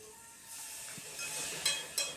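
Tadka tempering sizzling in a pan for macaroni in a home kitchen, a steady hiss of hot oil with a couple of sharper crackling bursts near the end, close and moderately loud with no talk.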